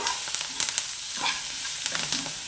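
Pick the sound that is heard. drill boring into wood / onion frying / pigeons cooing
onion frying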